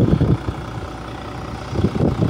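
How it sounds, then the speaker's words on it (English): A 2003 Volvo B12B Plaxton Panther coach with a Euro 3 12-litre Volvo engine idles nearby, a steady low rumble with bursts of heavier throb at the start and end, heard alone. "Euro 3 12 litre Volvo engine, that's driven through a ZF fully automatic gearbox"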